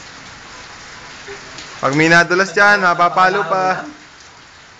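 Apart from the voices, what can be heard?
rain falling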